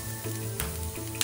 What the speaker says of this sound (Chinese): 新鲜沙葛经拌炒后会排出水分